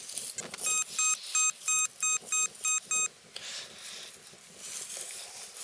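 C.Scope 6MX metal detector giving a repeated high-pitched beeping signal, about eight short evenly spaced tones over three seconds, loud and close, followed by quieter outdoor rustle along a path.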